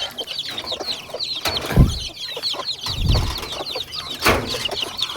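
Baby chicks being fed peep rapidly and constantly at close range, with a few low thumps and rustles from the feeding scattered underneath.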